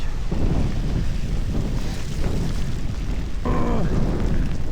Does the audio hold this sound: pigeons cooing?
no